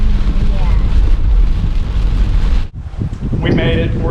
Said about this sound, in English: Rainy season.